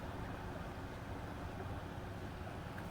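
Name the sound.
trawler boat motoring on the Hooghly River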